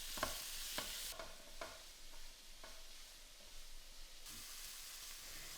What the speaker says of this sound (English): Add those prawns in and cook for about 2 to 3 minutes, turning once until those prawns are pink.